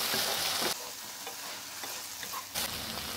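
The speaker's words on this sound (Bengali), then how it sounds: "ঢেঁড়স চিকেনটা মোটামুটি ফ্রাই হয়ে গেছে।" Okra and chicken fry in a pan with a loud, dense sizzle, broken by brief stirring scrapes and a sudden surge of hissing near the end, close and without speech.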